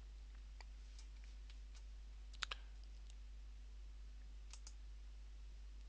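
Faint computer mouse clicks sound sparsely, a few single and paired taps, over a steady low electrical hum in an otherwise quiet room.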